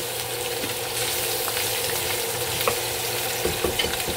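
Longaniza sausage frying in a little oil in a pan, a steady close sizzle and crackle with occasional sharper pops and light stirring clicks, no voices.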